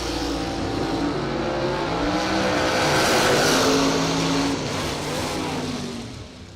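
A race car at a drag racing season kick-off event, with Troy Williams driving the Scott Rod machine, roaring past in a sustained engine note that swells and fades, heard from a distance with no talk.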